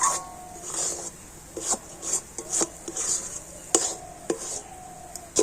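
A spatula scrapes and stirs thickening sandesh mixture in a pan, making irregular soft scrapes and taps close up at a moderate level, with no talking.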